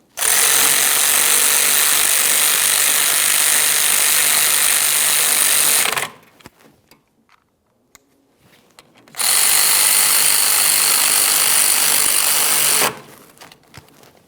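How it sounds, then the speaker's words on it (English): Power tool snugging the caliper slider pins on a 2009-2014 Nissan Maxima rear brake, two loud sustained whirring bursts of about six and four seconds with a quiet gap between, close up. "Now we'll snug each one of the caliper slider pins."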